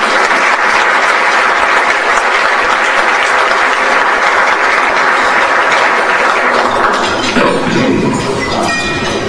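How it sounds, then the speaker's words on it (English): A dense, loud wash of audience applause honors chief of staff George Harville, sustained clapping that fills the whole stretch before thinning slightly near the end. "I'd like to give him a round of applause"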